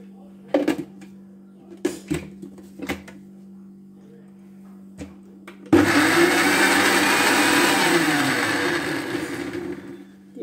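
A kitchen blender whirs loudly and steadily, blending strawberries for jelly, starting abruptly after a few scattered knocks and clatters and running continuously close by until the end.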